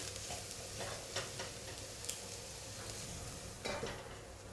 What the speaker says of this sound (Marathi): आपण ह्यावरती पाण्याचा हक्का मारून घेऊया थोडासा परतवून मग पुन्हा आपण बारीक गॅसवरती जरा हे आता शिजू द्यायचं व्यवस्थित